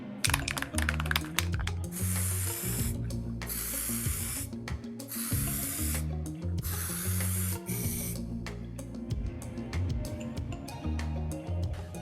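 An aerosol can sprays primer onto metal plates for a V12 gearbox install, in a series of short, close hissing bursts with small handling knocks between them.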